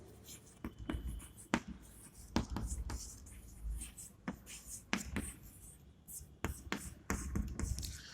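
Marker or chalk writing on a classroom board, heard as faint scratchy strokes and sharp taps scattered through a quiet room, with no talking.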